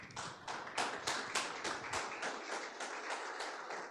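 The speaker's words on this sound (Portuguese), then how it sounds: "Aplauda o Senhor Jesus" A church congregation claps in a steady, brisk rhythm, the sharp hand claps fairly close and even, continuing for several seconds with no voices.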